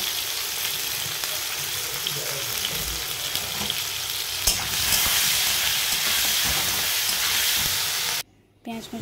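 Chopped onions with a pinch of salt fry in hot oil with five-spice, giving a steady, loud, close-up sizzle and hiss that runs unbroken before cutting out abruptly near the end.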